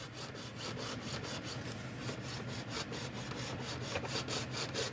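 A tool cuts through a soft plastic Lightyear XL-01 action figure with a quiet, rapid rasping stroke repeated steadily, close up and without talk.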